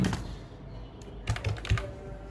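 Fingers type on a computer keyboard, entering an address while setting up a Google Workspace business account; a short run of soft clicks with a few sharper keystrokes near the end, close and quiet, no talk.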